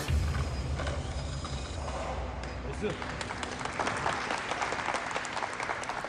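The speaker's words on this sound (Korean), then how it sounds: "경기가 끝나자 쏟아지는 박수" Applause from a crowd as a WorldSkills competition event in Abu Dhabi ends, steady and moderately loud with some mechanical creaks and indistinct voices mixed in, continuing throughout.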